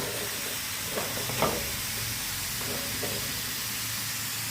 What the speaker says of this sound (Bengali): এবার এই পটলগুলো ভাজছি